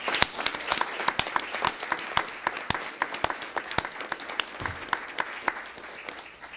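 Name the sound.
round of applause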